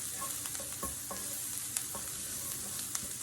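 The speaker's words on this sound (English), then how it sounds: "onion sauteed down" Chopped onion sautés in a single pan for a chicken and rice dish, a soft steady sizzle with occasional stirring scrapes and light clicks, close but fairly quiet, no talking.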